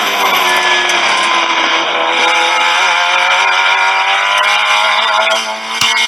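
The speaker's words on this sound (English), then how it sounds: "let's listen to your throttle through turn 8 and 9" A race car at Circuit of the Americas carries its engine through turns 8 and 9, a loud, steady high-revving drone with gently shifting pitch, a sharp click near the end, no voices.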